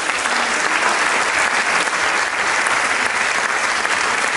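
Loud, dense applause from an evening event audience, steady and sustained throughout without pause, the crowd clapping together with no voices standing out.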